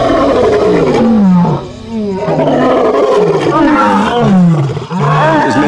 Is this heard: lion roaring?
yes